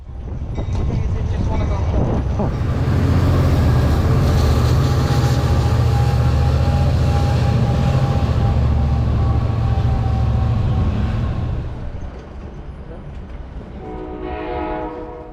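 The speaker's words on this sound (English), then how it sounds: "Our train eventually arrives from Seattle, Washington, around 70 minutes late." An Amtrak Coast Starlight passenger train rumbles into a station platform loudly with a heavy, steady roar and a brief horn blast, then slows and quiets as it comes to a stop.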